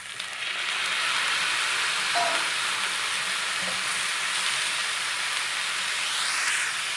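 Half a kilo of tomatoes sautéing in hot oil for chutney, a loud steady sizzle and crackle close by with a faint stir scrape, no talking.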